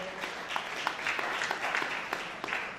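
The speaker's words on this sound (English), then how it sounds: "Give her a big round of applause." Mourners at a celebration-of-life gathering give a round of applause, a moderately loud, steady clatter of many hands with a few sharper individual claps standing out, and no speech over it.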